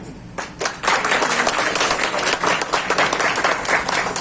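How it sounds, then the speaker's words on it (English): An audience at a farewell party breaks into close, loud clapping that starts abruptly and holds as a dense, steady patter of many hands. "Can you please leave your clap?"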